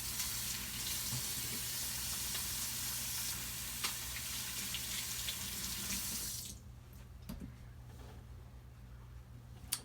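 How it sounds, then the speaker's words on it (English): Hands washed under a running kitchen tap, a steady broadband rush of water that stops abruptly partway through, leaving quiet room tone with a few small knocks. "I'm just gonna wash my hands."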